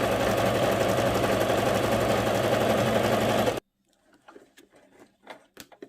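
A sewing machine stitching the lining of a cross-stitch prayer rug runs in a steady, loud, close mechanical whir for several seconds, then stops abruptly, leaving soft handling noises.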